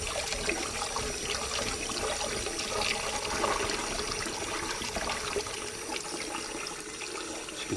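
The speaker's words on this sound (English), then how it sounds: "Take that excess bit of starch out of the potatoes, guys. Give them a rinse." Potatoes being rinsed in water to wash off starch, a steady close trickle and splash of running water, even and continuous with no talk.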